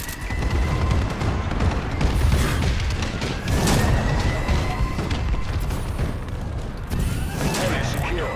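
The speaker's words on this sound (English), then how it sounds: "Enemy bombing run overhead." Enemy bombing run in the futuristic shooter Call of Duty: Advanced Warfare brings a sustained rumble of heavy booms and crashing explosions, with sharp bursts and a whistling streak over dense gunfire, loud and close, with talk underneath.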